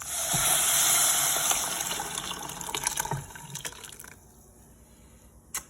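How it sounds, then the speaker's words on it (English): Liquid poured into a pot of toasting rice for Mexican rice, a loud steady gush and sizzle that gradually eases off into quieter bubbling, with a brief clink near the end. "Now we're gonna pour in our liquid."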